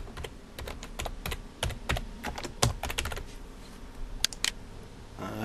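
Quick, uneven keystrokes tapping on a computer keyboard as text is typed, clicks in short bursts heard close and fairly quiet, with no voices.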